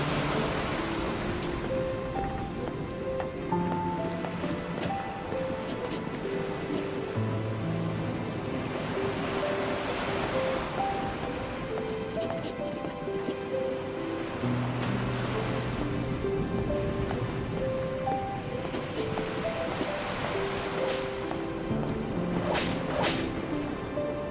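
Turbulent ocean waves crash around a ship at sea in the NieR Re[in]carnation video game. The broad surf wash rolls on steadily beneath a slow musical score, with a few sharp splashes near the end.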